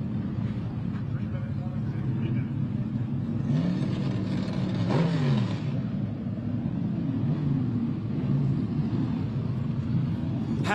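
Historic Trans Am race cars from a vintage SVRA event at Sebring pulling in, heard as a continuous engine rumble at a distance with one car passing and revving more clearly midway.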